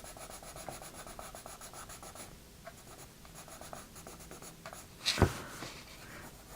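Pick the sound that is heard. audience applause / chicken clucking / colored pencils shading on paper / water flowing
colored pencils shading on paper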